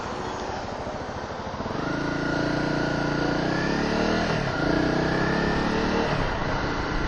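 A Honda CRF250L Rally motorcycle engine heard on the move from the rider's position, a continuous buzzing drone that rises in pitch as it accelerates, with wind rush underneath.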